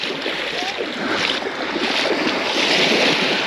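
Sea waves wash over a pebble beach at Lazarevskoye near Sochi, a steady loud broadband rush of surf mixed with wind buffeting the microphone, continuous without pauses or voices.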